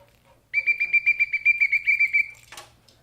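A whistle trills in a rapid fluttering tone for under two seconds, moderately loud, followed by a short burst of noise.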